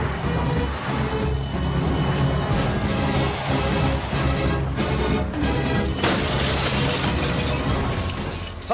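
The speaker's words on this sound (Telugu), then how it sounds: "అద్దాలు కూడా బద్దలు కొట్టుకొచ్చేస్తున్నావంటే" Glass is smashed in a Telugu movie scene. A sharp crashing burst rises out of a dense, loud soundtrack that runs throughout.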